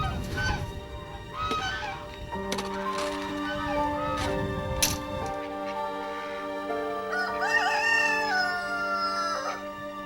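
Chickens on a farm, with honking, goose-like calls and crowing-type cries from fowl close by, repeated over steady background noise.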